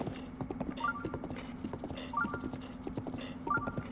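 Horse hooves clip-clop in a steady, close gallop in The Legend of Zelda: Breath of the Wild, a rhythmic run of hoofbeats with brief jingling tones in the background.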